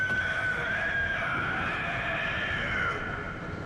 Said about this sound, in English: You all heard that scream, right?